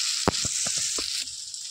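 Steady hiss of ground cumin, coriander and chilli frying in sizzling oil in a pan, with a few soft knocks and scrapes of a utensil stirring through it.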